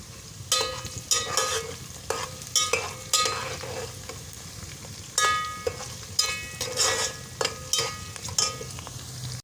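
Chopped onions sizzle in hot oil in a pot while a spoon stirs and scrapes in repeated bursts, close and fairly loud.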